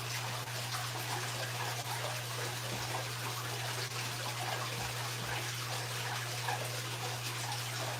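Fish tank water being siphoned through an egg sucker grubber cleaner, a steady close trickling, gurgling flow with a low constant hum running underneath throughout.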